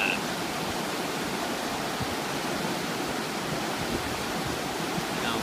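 Water rushes and roars in a steady, broad white-noise wash from a nearby waterfall on the Eagle Creek Trail in Oregon's Columbia River Gorge, constant throughout with no voices.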